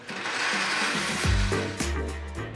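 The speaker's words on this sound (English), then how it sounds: "Blend till smooth." A kitchen blender purées salsa roja ingredients with tomatoes, vinegar and water, a loud continuous motor whir that drops in pitch and then settles into a steady low hum under load, close to the mic with no talk.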